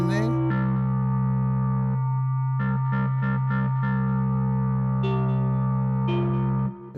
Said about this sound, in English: It's got this warm distortion in there.